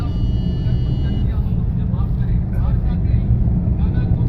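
An auto rickshaw engine putters steadily on a street as it pulls away, with a constant low drone and a voice talking over it.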